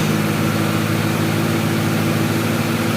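A 1988 Daihatsu Zebra with a 1.0-litre engine idles smoothly after an engine overhaul. It gives a steady, even, low hum at constant loudness, close up, with no talking.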